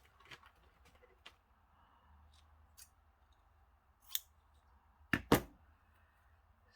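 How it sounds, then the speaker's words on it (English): Scissors snip through tassel strands for a junk journal spine, giving a few faint cuts and then two sharp, close snips in quick succession in a quiet room. "these ones I've got to cut because I haven't cut all of these"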